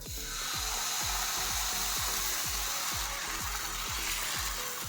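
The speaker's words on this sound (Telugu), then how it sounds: "మళ్ళీ ఉల్లిపాయ రుద్దేసుకొని దోశ బ్యాటర్తో ఊతప్ప వేసుకుందాం." Dosa batter uttapam sizzles steadily on a hot pan, a loud continuous frying hiss with a regular rhythmic ticking underneath, no talk.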